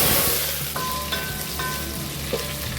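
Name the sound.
onions frying in a pan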